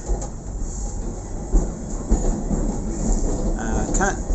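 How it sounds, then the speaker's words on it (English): A steam train pulling out of a roundhouse rumbles steadily with a constant low roar and faint rail clatter, a high squeal rising briefly near the end. "We're on our way, pulling out from the roundhouse on our trip on the steam train"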